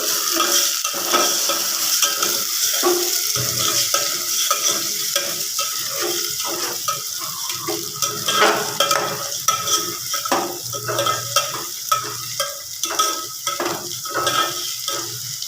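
Eggs for Kannada-style egg palya being stirred in a hot pan, a steady sizzle with repeated scraping and clinks of the spatula against the metal, close and continuous with no talking.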